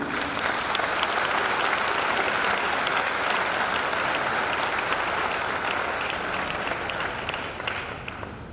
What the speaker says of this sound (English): Shall we give a resounding applause to our past leaders?